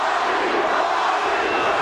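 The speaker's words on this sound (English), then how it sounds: "The crowd getting behind." A boxing arena crowd roars and cheers in a dense, unbroken wall of noise, loud and sustained throughout the short stretch.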